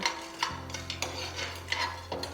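Whole spices for gola kabab masala dry-roasted in a pan and stirred with a small spoon, with light scraping and soft ticking spoon taps repeating over a low steady hum.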